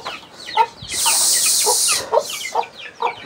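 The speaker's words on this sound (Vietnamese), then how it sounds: "đuổi con gà này ra ngoài" A chicken clucks indoors in bursts of short, close calls with a longer harsh squawk in the middle, loud and unaccompanied by talk.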